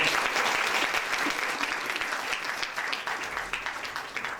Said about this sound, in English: Please give a round of applause for yourself.